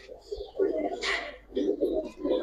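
Giribaz pigeons coo in repeated low, throaty phrases, close and fairly loud, broken by a brief rustle in the middle.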